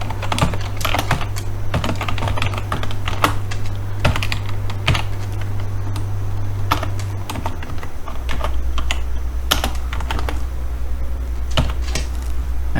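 Rapid typing on a computer keyboard clatters close and crisp, irregular bursts of key clicks over a low steady hum, with no talking.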